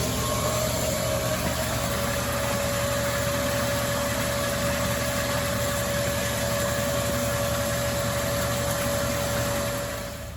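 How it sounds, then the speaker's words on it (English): Pond vacuum running beside a koi pond while sucking up lost koi scales, a loud steady motor drone with a constant whine, unbroken for about ten seconds. "we're just gonna turn on this vacuum here and suck up the scales"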